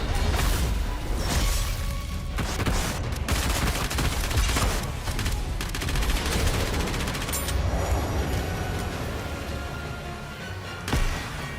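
Dense, rapid gunfire from the video game NIKKE rattles almost nonstop in loud overlapping bursts, with sharp cracks and a brief swell near the end.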